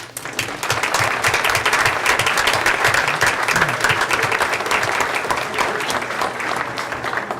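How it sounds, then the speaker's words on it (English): An audience at a school board meeting gives parents a sustained round of applause, dense and loud clapping filling the room for several seconds before easing slightly at the end. "So parents, if you could please stand so we can give you a nice round of applause."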